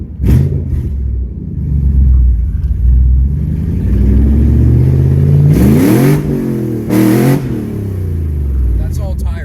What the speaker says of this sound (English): That's all tire spin. Zero traction.